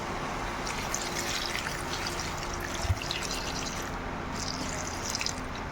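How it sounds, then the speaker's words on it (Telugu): Water poured into a cooking pot of rasam with amaranth stems, onion and curry leaves makes a continuous, close trickling pour with light dripping throughout. "ఇప్పుడు ఇందులో వాటర్ వేసుకుందామండి."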